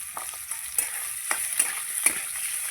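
Potatoes frying in a pan, a soft continuous sizzle with light periodic stirring scrapes, close and fairly quiet, no voices.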